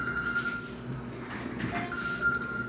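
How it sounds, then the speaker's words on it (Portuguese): A telephone rings close by in a home during a knee-care session, a steady electronic tone held through most of the short span with a brief gap, alone without talk. "o telefone tocando aqui"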